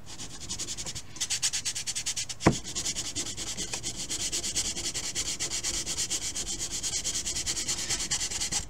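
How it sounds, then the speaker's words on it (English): Steady back-and-forth rasp of hand sanding on balsa wood model rocket fins for an Apogee Aspire, close and continuous with a quick sweeping rhythm and one brief knock partway through. "we're just going to turn it a little bit quicker as we sand"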